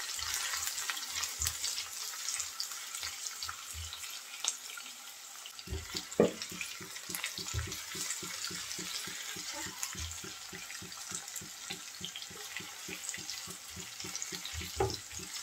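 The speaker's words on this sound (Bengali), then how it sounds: "পেঁয়াজ রসুন হালকা একটু ভেজে নিয়েছি।" Chopped onion, garlic and bay leaf frying gently in a pan, a soft, steady sizzle with a run of quick rhythmic scraping or stirring taps through the second half, faint and close.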